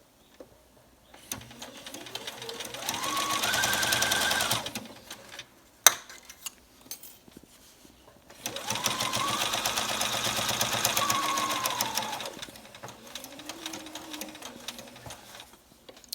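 A sewing machine backstitches a cloth face mask with ties. Two long bursts of rapid whirring stitching are separated by quiet gaps and a brief click, with a short final run near the end.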